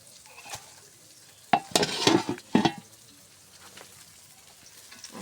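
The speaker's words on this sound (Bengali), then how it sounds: "আর এখানে করলা ভাজি হইতেছে, করলাটা ভাজি করবো।" Bitter gourd (karela) fries in a pan, a faint sizzle under a short burst of scraping and clattering stirs against the pan around the middle, then quieter frying with occasional light knocks.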